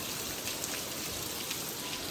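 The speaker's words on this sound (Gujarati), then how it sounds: "થોડીક જ વારમાં બોલો વરસાદ પણ ચાલુ થઈ ગયો." Rain has just begun falling outdoors, a close, steady patter and hiss of drops on surfaces throughout, with no talk.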